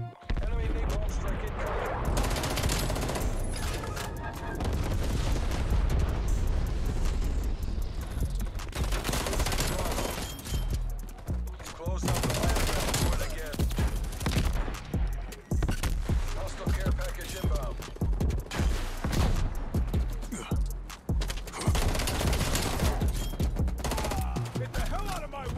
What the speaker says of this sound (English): Man is shooting my body!